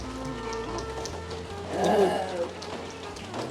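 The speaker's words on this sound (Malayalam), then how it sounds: "നല്ല മഴ" Rain patters steadily on a surface, fairly faint and continuous, with a brief louder rush midway and soft voices faintly in the background.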